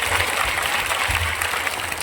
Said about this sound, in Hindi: जोरदार ताली तो बजाइए।